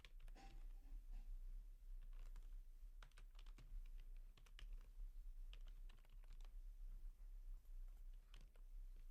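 Rapid, quiet clatter of keys on a computer keyboard, in irregular bursts of close, light taps with brief pauses between them.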